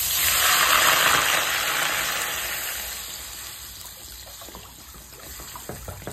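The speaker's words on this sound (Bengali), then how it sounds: "এই জলটা আমরা এবার এর মধ্যে দিয়ে দেব।" Water poured from a one-litre bottle into a pot of rice for pulao, a loud, steady splashing pour that fades gradually over several seconds, ending in soft trickles and faint clinks.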